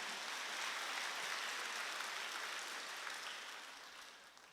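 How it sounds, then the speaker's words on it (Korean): A congregation applauds during a Korean church's Wednesday worship service, a soft, steady wash of clapping that tapers off slightly toward the end, heard with no talk. "박수"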